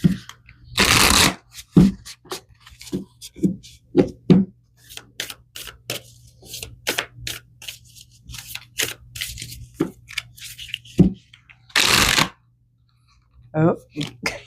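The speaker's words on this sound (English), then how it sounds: "I'm going to pull some energy cards here." Tarot cards being shuffled in repeated bursts of riffling and rubbing, close and crisp, with quieter handling between them and a soft voice speaking in places.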